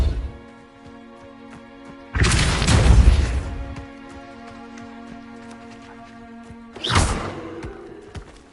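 Two forceful blast-like bursts from a Depulso spell cast in Hogwarts Legacy, each a loud rushing boom that fades, with a low steady tonal game hum between them.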